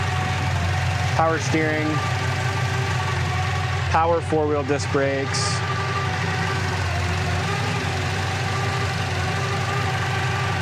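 A 1966 Chevrolet Impala convertible restomod idles steadily with a low, even engine hum, while someone talks over it in short phrases.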